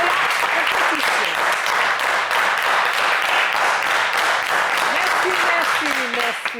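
A game show studio audience breaks into steady, dense applause, loud and sustained for several seconds, while a host speaks over the clapping.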